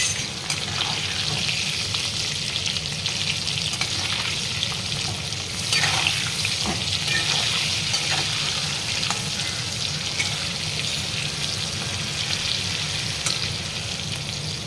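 Potatoes fry in oil toward browning for a thin mutton curry, giving a dense, continuous sizzle that stays level and close throughout, with occasional faint clicks and stirring.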